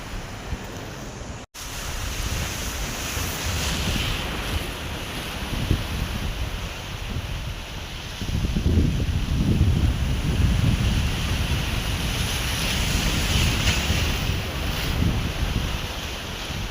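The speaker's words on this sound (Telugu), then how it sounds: "ఆ బ్యాక్ సైడ్ పెద్ద అలలు" Big ocean waves roll and break in a steady, loud roar mixed with gusty wind buffeting the microphone, growing heavier and louder in the second half, with no talking.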